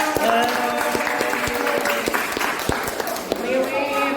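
A classroom group breaks into steady applause after finishing their group presentation, dense clapping from many hands filling the room, with some voices mixed in underneath.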